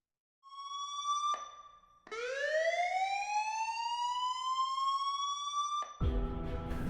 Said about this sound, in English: That sound of the emergency squad happens 34 times per hour